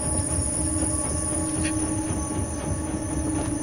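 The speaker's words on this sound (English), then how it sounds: "Oh, trains." Trains roll past in the dark side-scrolling video game INSIDE, a continuous rumbling rush of rail cars with faint wheel squeal, steady and loud throughout with no talking.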